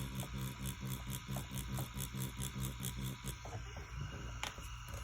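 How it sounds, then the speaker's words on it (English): Tattoo machine running in brush-motion shading, a continuous close buzz with quick, uneven pulsing strokes that blur together, then settle into a smoother drone near the end, with a small click. "And then brush motions sound something like this."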